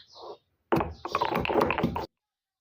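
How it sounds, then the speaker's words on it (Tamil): Garlic crushed in a stone mortar with a pounding stone: a short sound first, a pause, then a dense cluster of close, sharp knocks and crunchy thuds lasting over a second before stopping. "அதே கல்லில் பூண்டை போட்டு இடிச்சுக்கலாம்"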